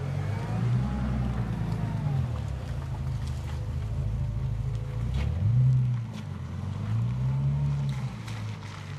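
An everyday car's engine rumbles with low revs that rise and fall several times, heard steadily from close up and without talk.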